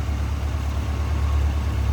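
A 1976 Toyota Celica GT's 2.2 liter 20R four-cylinder with headers idles steadily, a smooth continuous low rumble heard up close without any other sounds.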